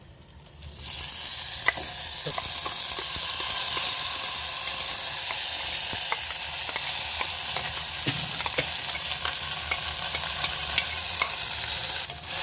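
Spice paste sizzling steadily in hot oil with black pepper and bay leaf for a trotter (paya) soup, a loud continuous fry with occasional stirring clicks and no talk.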